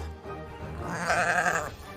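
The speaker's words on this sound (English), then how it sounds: "summer retreat for sheep" Sheep on a Newfoundland farm bleat loudly in a couple of overlapping, wavering calls that swell toward the end, heard close with no talking.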